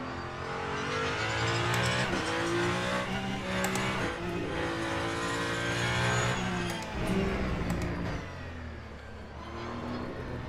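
A race car engine in the racing game Le Mans Ultimate revs high and loud, rising in pitch through each gear and dropping sharply at every shift, a repeated climb and fall with no talk over it.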